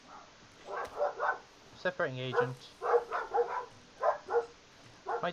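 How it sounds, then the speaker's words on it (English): Dogs barking outside, a few muffled woofs and yips heard through a window beneath a voice talking over them. "My dogs are going fucking mental outside."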